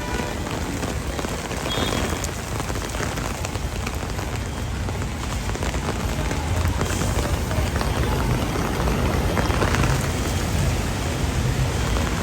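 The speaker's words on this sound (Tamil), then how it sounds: "இப்போ மழை வந்துட்டுது" Heavy rain falls in Jaffna, Sri Lanka, during strong wind, making a dense, continuous hiss of drops on surfaces that swells slightly louder toward the end.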